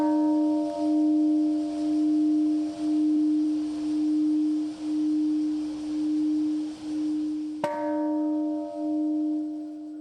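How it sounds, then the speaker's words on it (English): A large peace bell tolls at a memorial ceremony in Hiroshima, its steady deep hum pulsing slowly throughout, with a fresh strike near the end renewing the ring; no talking. "What you're hearing there is the peace bell."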